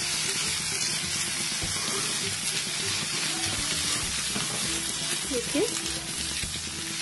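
Brinjal (baingan) slices frying in oil in a pan, a steady close sizzle running throughout under a brief spoken word.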